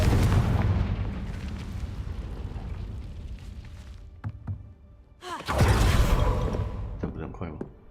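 Confringo fire spell in the video game Hogwarts Legacy, a loud booming explosion with a rumbling decay, followed by a short lull, then a second heavy blast that rolls on for a couple of seconds.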